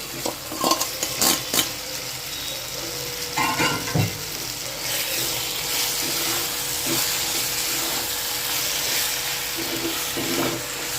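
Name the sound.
prawns frying and being stirred in pan for gravy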